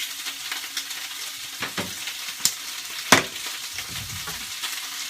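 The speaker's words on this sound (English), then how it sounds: "You'll notice it's starting to get much louder as the spices are hitting that" Spices including chili powder, salt and pepper sizzling in a pan of pasta sauce, a steady close frying hiss with occasional sharp pops and spatters and some stirring scrapes, heard alone without talk.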